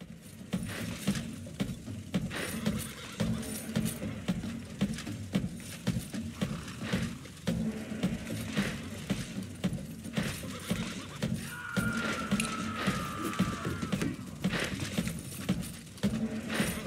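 Hoofbeats pound steadily from horses galloping across a pixel-art Roman battlefield in the strategy game Roma Invicta, a dense continuous clatter with a brief whinny partway through and no talking.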